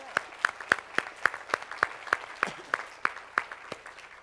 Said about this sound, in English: Give a round of applause to Tony Coelho.